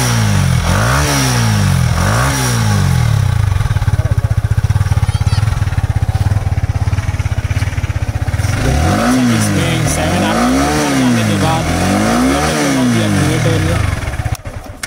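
A Yamaha R15 V3 sports motorcycle revs its exhaust repeatedly, with sharp rising and falling bursts of engine pitch between idling stretches, loud and close.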